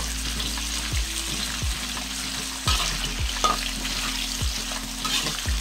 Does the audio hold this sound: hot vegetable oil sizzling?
yes